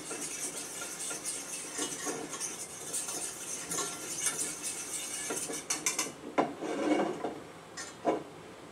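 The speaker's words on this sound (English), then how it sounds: "Mix up some pesto. I like to keep stirring it. I just use a little whisk." A small whisk stirs pesto in a bowl, giving a steady close scraping and rubbing that runs throughout, with a few sharper taps against the bowl near the end.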